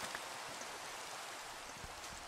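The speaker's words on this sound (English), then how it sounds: "It's raining, man." Rainfall in the Minecraft game world, running an FTB modpack, forms a steady, faint hiss of falling rain that continues evenly with no speech over it.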